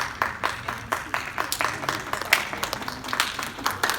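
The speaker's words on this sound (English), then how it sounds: "are you clapping for this or for Popeyes?" Audience of young Muslims clapping at a gathering, a steady patter of many hands with irregular louder claps, fairly close and moderately loud throughout.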